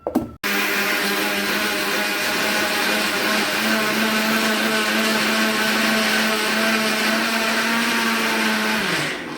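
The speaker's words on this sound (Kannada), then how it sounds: "ಸಕ್ಕರೆ ಕಡಲೆ ಏಲಕ್ಕಿ ಮೂರನ್ನು ಗ್ರೈಂಡ್ ಮಾಡ್ತೀರಿ ಇವಾಗ" Mixer grinder grinding sugar, roasted chana and cardamom, starting with a short rattle and then a loud, steady whirring motor drone that holds evenly for several seconds before cutting off.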